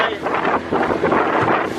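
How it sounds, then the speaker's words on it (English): Steady wind buffeting the microphone out on a lake, a continuous broadband roar with gusty swells and no other clear sounds. "So the wind's come up a little bit now"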